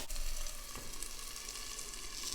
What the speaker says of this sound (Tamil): இதை ரொம்ப வதக்க வேண்டாம், ஒரு 5 மினிட்ஸ் வதக்கினா போதும்.